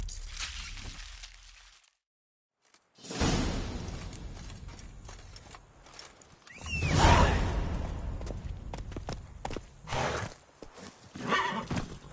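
Geralt's horse Roach in The Witcher 3: Wild Hunt gives a clear whinny mid-way, surrounded by galloping hoofbeats and a whooshing rush of movement, after a short near-silent gap early on.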